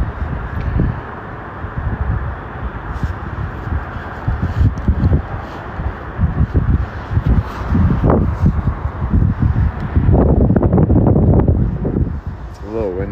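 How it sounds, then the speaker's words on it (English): Low rumbling wind buffets a microphone in gusts, with people talking underneath and some rustling. "It's a little windy."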